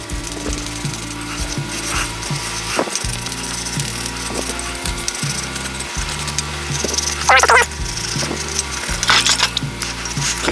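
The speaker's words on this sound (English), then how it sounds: "use a metal scrubber and scrub them" Metal scrubber scrubbing grease off a VW deck lid latch, a continuous raspy scraping with uneven back-and-forth strokes and occasional metallic clicks, close and alone.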